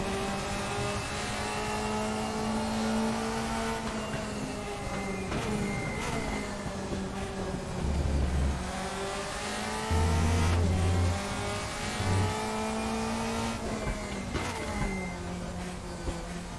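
Race car engine circling the Assen TT Circuit in the RaceRoom racing game, a loud steady drone that climbs and falls with gear changes and revs across the lap, with brief low rumbles.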